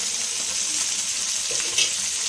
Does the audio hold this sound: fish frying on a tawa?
yes